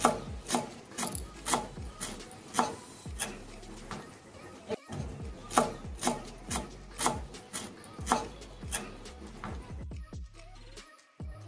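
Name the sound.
stirring chopped coriander into bottle gourd and prawn curry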